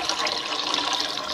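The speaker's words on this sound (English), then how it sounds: "For this we have taken 4 cups of water." Four cups of water pour into a pan for sugar syrup in a home kitchen, a steady, close splashing stream that runs continuously without pause.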